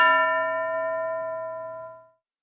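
A single struck metal bell rings once in a classroom lesson, a clear clanging tone that rings on and fades out over about two seconds, with no voices.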